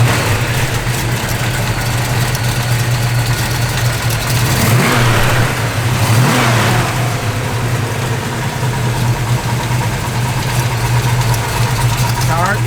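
A 1970 Plymouth Cuda engine runs loud and close with a steady low rumble, swelling through a couple of revs in the middle before settling back to idle, with a voice talking over it.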